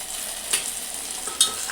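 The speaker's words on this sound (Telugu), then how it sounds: "ఈ పచ్చి వాసన అయ్యే వరకు మంచిగా ఫ్రై చేసుకోవాలి" Potato masala curry frying with curry leaves and mint, a close steady sizzle broken by two sharp stirring scrapes, with no voices.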